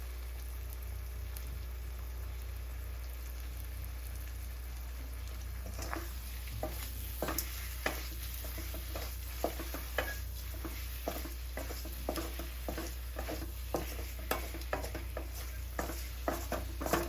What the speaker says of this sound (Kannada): ಸ್ವಲ್ಪ ಆಯಿಲಲ್ಲೇ ಬಾಯ್ಲ್ ಹಾಕಿಬಿಡ್ತೀನಿ.